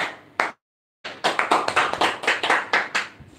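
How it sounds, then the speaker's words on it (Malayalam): Applause at a Malayalam-language team winners' event for an online shopping business: a short pause, then a burst of many quick, sharp hand claps in a steady, fairly close rhythm. "നല്ലൊരു കയ്യടിയാണ്."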